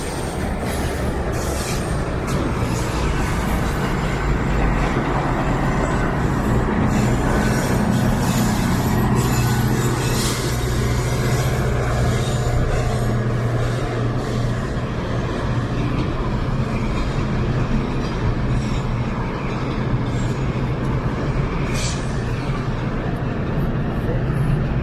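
GO Transit commuter trains on the Lakeshore West and Kitchener lines rumble past beneath the Gardiner Expressway in Toronto during rush hour, a loud, sustained roar with rattling wheels and metallic squeals, while a person talks over it.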